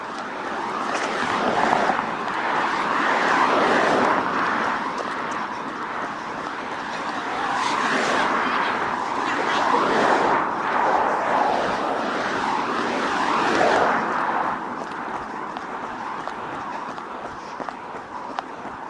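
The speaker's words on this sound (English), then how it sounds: "Sorry about the traffic noise." Steady roar of passing road traffic, vehicles swelling and fading in a continuous wash of engine and tire noise, fairly loud, with no voices.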